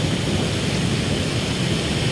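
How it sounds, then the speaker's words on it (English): Heavy rain and a wind squall lash a coastal wild camp in a steady, loud, close roar with no pauses. "The rain really has got worse."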